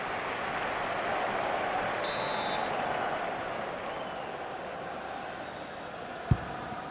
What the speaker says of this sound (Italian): e ci sono gli applausi, una vera e propria standing ovation per lui